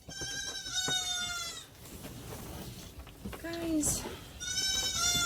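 Goats on a homestead bleat loudly and nearby in several wavering calls, with someone talking briefly between them and rustling in the background.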